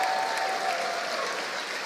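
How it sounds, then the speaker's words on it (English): A live esports crowd at a Fortnite tournament event in San Jose claps in a dense, sustained burst of applause that holds steady throughout. "Give yourselves a round of applause for the love we've been seeing in here."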